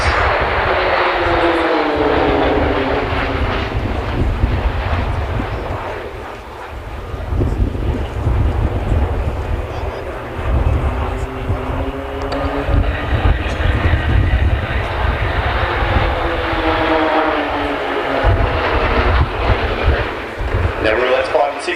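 RAAF Roulettes aerobatic aircraft, numbers 5 and 6, roar past loudly in a sustained engine drone with wind buffeting, the pitch sweeping as they pass during a high-level display routine.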